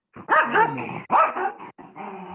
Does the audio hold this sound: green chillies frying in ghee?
no